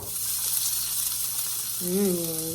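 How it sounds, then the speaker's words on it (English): A steady, hissing sizzle of a Dr. Prager's California veggie burger patty frying in a hot pan, with a brief tonal hum rising near the end. "Hear that sizzle?"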